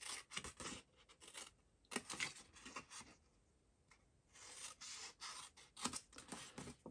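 Scissors snip through paper to cut off all four corners while making a shadow-box gift package for test tubes, giving repeated bursts of crisp close cutting and rubbing separated by short pauses.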